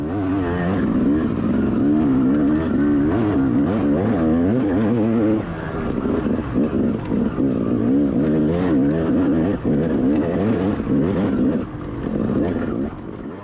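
An enduro motorcycle rides a wooded trail test section at a National Enduro in Cross Fork, Pennsylvania, its engine loud and close throughout, rising and falling as the rider works the throttle, with a brief dip in revs partway through.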